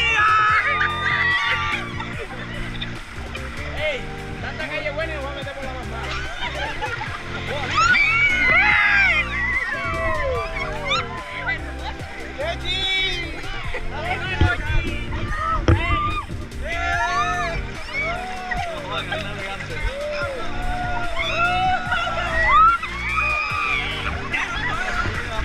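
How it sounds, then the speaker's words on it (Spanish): River tubing near Buritaca, Santa Marta, Colombia, with people shouting and laughing over a steady wash of moving water. Voices come and go at varying distances, and occasional splashes can be heard. "Esta es la experiencia del tubing."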